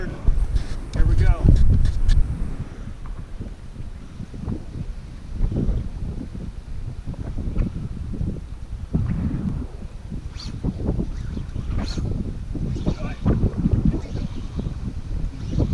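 Strong gusty wind buffets the microphone outdoors, rumbling low and continuous, with a person talking through the gusts.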